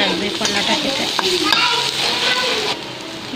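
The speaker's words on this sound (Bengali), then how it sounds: "দেখো পুরো লাল এবং মুচমুচে করলা ভাজা হয়েছে, কড়াইয়ে" Bitter gourd (karela) slices frying in a wok, a steady close sizzle with occasional stirring scrapes, no talking.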